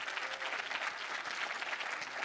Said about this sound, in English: Let's give a round of applause for Melly